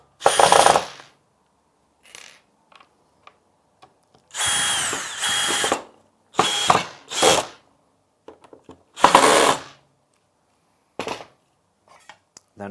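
Short bursts of a power drill driving screws into a door glazing cassette, several separate close, loud runs with pauses between them and light clinks of handling.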